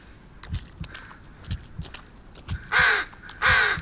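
Crows caw in the horror video game Blair Witch, two loud harsh caws near the end, preceded by a steady rhythm of footsteps on the ground.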